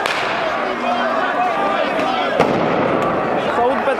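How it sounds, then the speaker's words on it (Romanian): Firecrackers set off at a street protest where crowds clash with gendarmes, with a sharp crack standing out over a continuous roar of crowd noise and commotion. "S-aud petarde, s-aud multe petarde."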